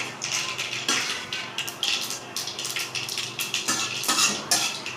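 Onion tossed into hot oil with cumin and mustard seeds, heard as a close, continuous crackling sizzle broken by repeated metal spoon scrapes and clinks against the pan, with no talking.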